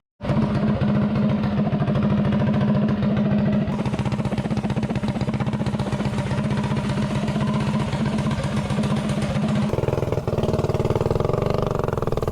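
A mini bike engine fitted with a 24 mm carburetor runs loud and steady for the whole stretch, a close, buzzing mid-pitched drone with a brief dip and change in tone near the end.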